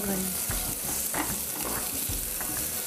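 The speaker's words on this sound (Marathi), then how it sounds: "कांदा हलकासा परतून घेऊया" Onion sautés lightly in a pan on a Marathi TV cookery show, a steady close sizzle with repeated rhythmic stirring scrapes and no talk over it.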